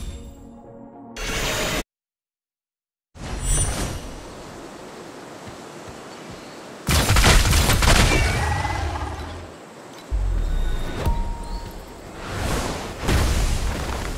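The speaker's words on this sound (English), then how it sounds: "The cannons are still raining fire down on the hideout." Cannons in the video game Torchlight Infinite fire on a hideout, loud bursts of roaring booms and blasts broken by a sudden silent gap, then repeated heavy surges of explosive noise.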